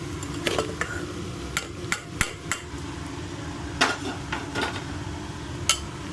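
Egg fried rice being stirred in a pan, a spoon or spatula knocking and scraping against the metal in irregular clacks over a steady background hiss.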